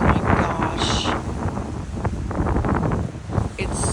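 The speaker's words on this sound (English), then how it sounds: "It's so windy." Strong outdoor wind roars and rumbles against the microphone in loud, uneven gusts for a few seconds.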